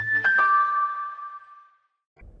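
A bright electronic ding-dong chime rings clearly, two tones that ring out and fade over about two seconds, followed by a short low rumble at the very end.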